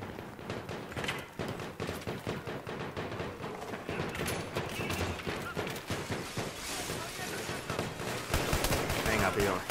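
Rapid bursts of gunfire in Battlefield 3 crackle through a busy game soundscape, shots coming in quick clusters with a louder flurry near the end, voices mixed underneath.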